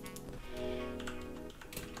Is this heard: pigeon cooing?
no